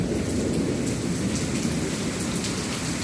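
Steady, dense rain falls outdoors during monsoon weather in India, a constant loud hiss and patter with no pauses and no talk over it.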